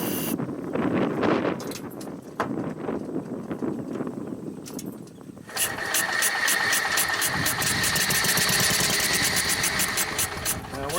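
A sawmill engine with a fuel pump frothing the gas runs rough and uneven, first a low sputtering rumble, then a louder, steady rattling run with rapid ticking pulses, close by.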